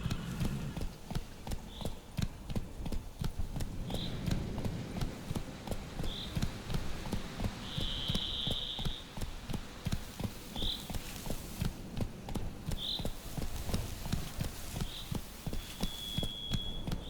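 In The Witcher 3 video game, with an '80s photorealistic mod, a horse gallops with fairly faint, regular hoofbeats that run throughout, alongside recurring short high chirps.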